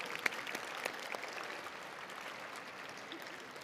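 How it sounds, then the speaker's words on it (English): Audience applause at a state science and technology fair awards ceremony, a moderate, fairly distant wash of clapping that carries on evenly and thins slightly toward the end. "Let's give all of them a round of applause."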